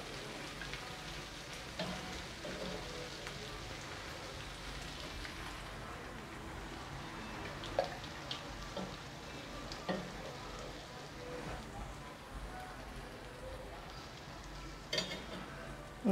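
Fava beans being stirred into a pan of simmering tomato, onion and spices, producing a soft, steady bubbling sizzle throughout with occasional faint clinks and scrapes of a spoon against the pan.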